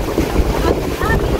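Strong wind buffets the microphone in loud, continuous gusty rumbles, with a sea-like roar underneath, filling the whole short stretch without speech.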